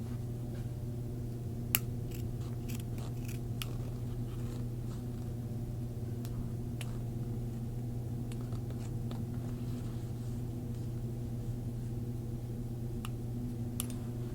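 Scissors trimming jacket fabric: a scattering of faint, sparse snips and clicks spread over about fourteen seconds above a steady low electrical hum.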